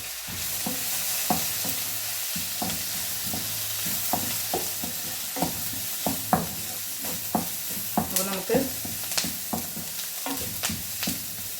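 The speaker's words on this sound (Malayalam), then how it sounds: "ഈ സവാളയൊന്നും വഴന്ന് വരുന്ന സമയം മാത്രം മതി" Onions sauté in a pan with a constant crackling sizzle, punctuated by regular scraping and tapping as a utensil stirs them, heard up close with no speech.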